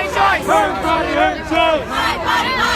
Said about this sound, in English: men here chanting, my body, my choice